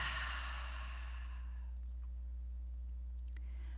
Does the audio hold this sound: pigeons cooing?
no